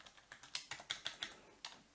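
Someone types code on a computer keyboard for an Arduino rotary encoder sketch, a quick run of about ten crisp, close keystrokes in an uneven rhythm with a short pause before the final tap.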